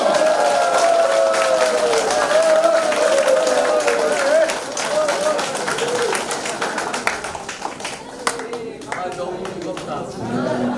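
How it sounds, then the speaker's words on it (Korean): Crowd applause at a candidate's election campaign office opening in Buan, dense clapping and cheering from a gathered audience, loud and sustained throughout, with a voice and chatter running over it before the clapping thins toward the end. "박수 한 번만 주세요"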